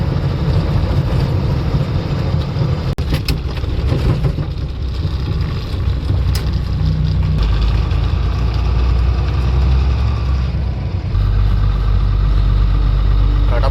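Steady, loud low engine rumble from a car driving slowly along a road near the Hyderabad ring road, heard from inside the vehicle as a continuous drone with faint road noise.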